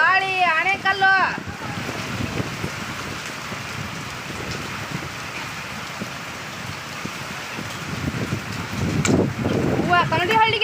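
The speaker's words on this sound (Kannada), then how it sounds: "ಮಳಿ ಗಾಳಿ ಆಣೆಕಲ್ಲು" Steady rain beats down through a wind-driven hailstorm, a dense, continuous wash of drops and gusts, with a voice speaking briefly at the start and again near the end.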